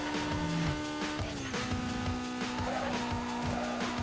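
Close, loud engine drone of a Fiat Punto cruising at around 300 km/h in Need for Speed, with a gear change and bursts of tire squeal over the steady high-speed roar.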